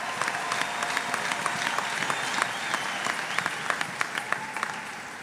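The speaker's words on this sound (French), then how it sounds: "Applaudissons encore très fort pour le pasteur." Sustained applause fills a church temple dedication as the congregation claps loudly and steadily for the pastor, a dense, unbroken mass of hand claps with a few sharper peaks.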